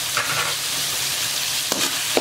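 Tomato and onion with ginger and garlic sizzle steadily in a hot pan, with a few brief scraping clicks of stirring over the constant frying hiss.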